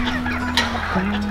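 Farm fowl cluck and honk close by in a goat pen, a steady low drone running underneath the birds' calls.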